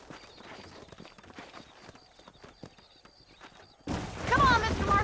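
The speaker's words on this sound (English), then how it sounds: "These are fine horses." Horse hooves clip-clop in a steady rhythm in the Red Dead Redemption video game, heard under character dialogue, with a louder burst of game sound near the end.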